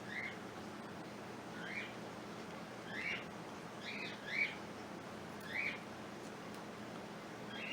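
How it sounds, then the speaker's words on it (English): Pet birds squawk and chirp in short bursts near the middle distance, several calls spaced irregularly over steady room background, with no talking. "My birds are going crazy today."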